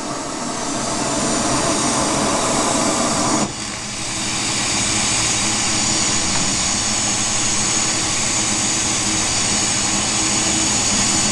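A glassblowing furnace roars steadily as a glass bowl is heated, a loud, continuous broadband rush with a brief dip partway through before resuming at full strength.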